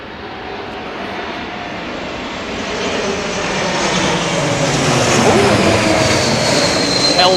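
A Helvetic Embraer E2 jet airliner arrives at Heathrow in gusty conditions, its engine roar swelling steadily louder as it approaches, with no talking heard.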